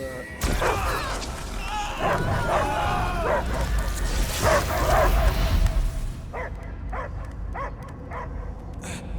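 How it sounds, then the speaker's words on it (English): A dog barks and yips repeatedly amid a loud, dense soundscape with rumbling effects in the video game Marvel's Guardians of the Galaxy, the barks growing sparser and clearer toward the end. "I hear only barking."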